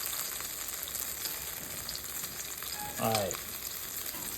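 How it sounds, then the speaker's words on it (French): Kofta sizzles steadily in hot frying oil, a dense, constant crackle close up, while a voice briefly speaks over it near the end. "Laissez bien frire un petit doré."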